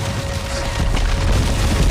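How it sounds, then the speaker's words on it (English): Avalanche in the video game Dead Space 3, a dense, continuous roaring rumble with crackling debris that fills the whole stretch at steady loudness. "That's an avalanche."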